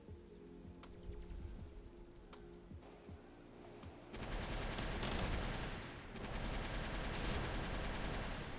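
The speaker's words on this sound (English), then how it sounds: "Rocket barrage is not very good" A rocket barrage fires in the video game Palworld: after a quieter stretch with steady game tones, a dense, loud volley of rapid blasts erupts, dips briefly, then surges again in a second wave.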